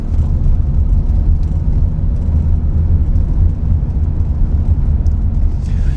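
A 1977 BMW 633 CSi with a three-speed ZF automatic gearbox drives along, giving a steady, loud low engine and road rumble heard from inside the car, constant throughout with no talking.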